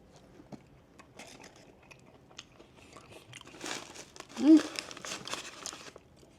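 Close crunching and chewing on KFC potato wedges, with soft crinkling of packaging and a few louder bites, fairly quiet overall, with brief talking.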